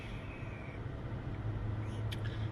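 Steady low road rumble and tire noise from a car being driven to work, continuous and close throughout with no talk.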